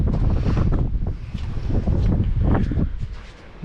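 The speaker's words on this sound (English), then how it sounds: "Nice old wind" Strong coastal wind buffets the microphone at Cape Nelson Lighthouse near Portland, overlooking Bass Strait, roaring steadily and loudly in gusty surges with no voices.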